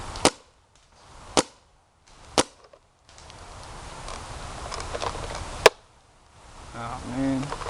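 A Clone GT blaster fired one-handed gives three sharp, close snaps, then a steady whirring motor hum broken by a fourth crack.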